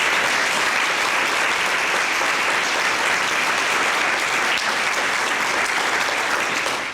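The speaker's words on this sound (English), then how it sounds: "Please give our partners a round of applause." Sustained applause from an audience at a mayoral library budget event, dense and steady clapping throughout with no talk over it.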